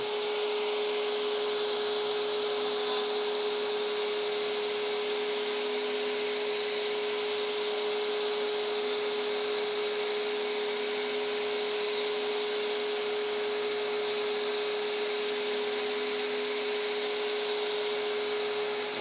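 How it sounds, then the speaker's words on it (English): A belt grinder grinds a hardened steel dagger blade, producing a loud, continuous high whine and abrasive hiss with a steady motor tone that runs unbroken for the full stretch, without speech. "once this blade has been hardened, it doesn't grind nearly as easy as it did with my rough grinds when it was still in the annealed state"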